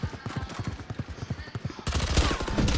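Rapid automatic gunfire in the video game Valorant, a fast even string of loud near shots, followed by a harsher burst of noise for the final second.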